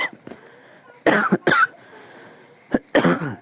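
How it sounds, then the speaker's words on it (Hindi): Several sharp, close coughs break a quiet room: a couple of strong bursts early on, then another pair near the end. "खांसी थोड़ा बढ़ते जा रहा है"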